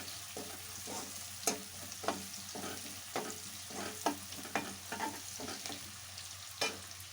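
Onions and curry leaves fry quietly in a pan, a faint steady sizzle punctuated by regular scraping taps from a spoon stirring them.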